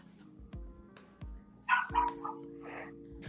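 A dog barks several times, sharp and fairly close, heard over a low electrical hum in a room during a robot-combat livestream.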